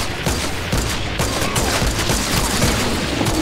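Sniper fire in the game Fortnite amid a continuous loud barrage of shots and impacts, dense and steady throughout with no pauses.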